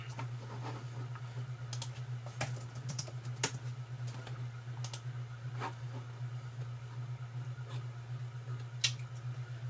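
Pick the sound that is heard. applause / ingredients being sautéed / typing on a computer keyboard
typing on a computer keyboard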